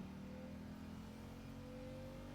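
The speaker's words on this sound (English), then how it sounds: "Rev the engines!" Engines rev in the Genshin Impact video game during a race course, a steady droning hum with a sustained tone, moderately quiet and continuous throughout without speech.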